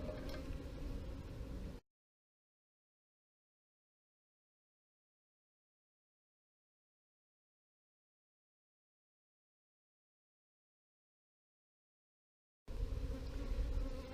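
A honeybee swarm clustered outside its box makes a dense, close buzzing hum for about two seconds, then falls silent for a long stretch before the buzzing returns near the end.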